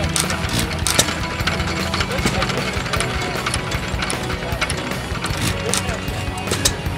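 A 1917 Hercules 1.5 horsepower engine runs with a rapid, steady mechanical knocking and clatter, close and fairly loud, while people talk nearby.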